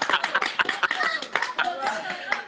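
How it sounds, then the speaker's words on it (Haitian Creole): A small group claps and cheers briefly, quick scattered hand claps with some chuckling and voices mixed in, fairly close and moderately loud. "Applaudissez."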